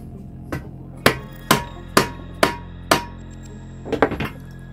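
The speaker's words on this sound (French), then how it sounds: "un petit marteau." A small hammer taps a fork bearing race onto an MBK 51 moped's fork, six sharp metallic strikes in a steady rhythm followed by a quick flurry of lighter taps, close and clear.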